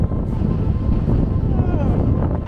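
Strong wind gusts buffet the microphone on an exposed mountain hike, a steady, loud roaring rush with low-end rumble throughout.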